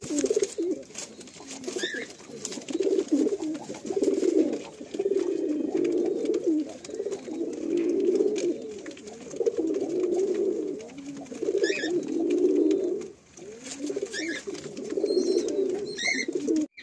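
Madrasi pigeons coo in low, rolling repeated phrases, close and fairly steady over the whole stretch, with a few faint higher chirps in the background and no speech.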